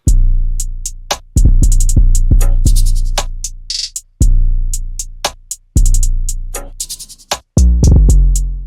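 Trap drum loop with an Arabic, ethnic flavour built in FL Studio: crisp hi-hat ticks, sharp rim clicks, a short rising hat sweep and a bongo perc over deep booming kicks, repeating in a steady, loud pattern without any voice.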